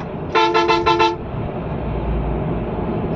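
A Scania bus horn gives one loud, close blast of rapid pulses lasting under a second, followed by steady engine and road noise.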